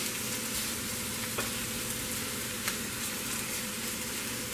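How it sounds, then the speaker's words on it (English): Rib eye steak strips browning with seasoning in a pan over medium heat, a steady dense sizzle and crackle throughout with a couple of sharper pops, close and continuous with no talking. "I first put the meat in on a nice medium heat. And brown it up real good"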